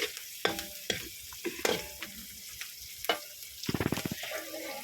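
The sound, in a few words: onion and garlic being sautéed in a pan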